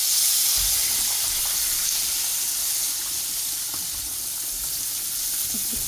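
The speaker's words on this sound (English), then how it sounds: "Let's pour our fish." Fish frying in a hot pan gives a loud, steady hissing sizzle that holds constant from start to finish, with faint pops and clatter underneath.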